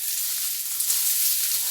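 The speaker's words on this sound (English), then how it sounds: "Nice sizzling butter." Butter sizzles and hisses steadily in a pan as fish cakes fry, a close, constant crackle with no voices.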